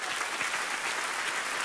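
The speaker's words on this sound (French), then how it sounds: "on va t'applaudir quand même" A studio audience claps steadily for a contestant's scenario, dense and even throughout with no voices over it.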